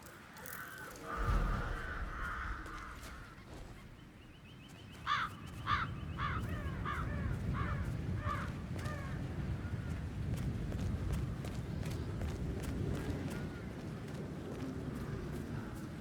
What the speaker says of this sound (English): Damn birds. If I could just get a clear hit on those nests.